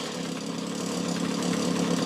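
A Suzuki LT 50cc mini quad engine idles steadily close by, a continuous buzzing putter that holds even throughout with a slight rise in level toward the end, with no voices.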